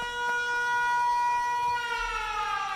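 The low-power alarm siren in the video game Factorio sounds as a steady, piercing electronic wail with many bright harmonics. It holds continuously at close, even volume, and no one talks over it.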